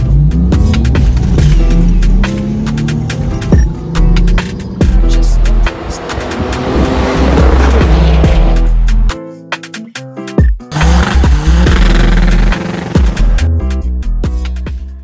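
A four-wheel-drive performance car revs hard and pulls away, its engine surging loudly through repeated bursts and gear changes, with choppy, close-up wind-buffeted roar and brief lulls between pulls.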